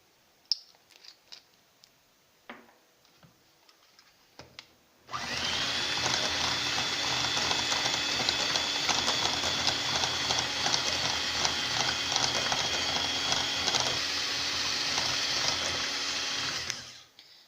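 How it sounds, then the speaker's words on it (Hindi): An electric beater whips lemon cake batter flavoured with vanilla essence. After a few seconds of quiet small clinks, it switches on with a loud, steady, close whirring drone that runs unbroken for about twelve seconds, then stops. "3 से 4 मिनट आप इसको अच्छे तरीके से बीट करेंगे ताकि अच्छा सा मिक्सचर जो है वो फूल जाए।"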